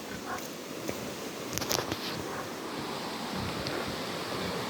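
Flooded river water rushing outdoors, a steady, loud, broadband roar of churning current with some wind buffeting, continuous throughout.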